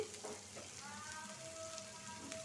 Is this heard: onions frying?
yes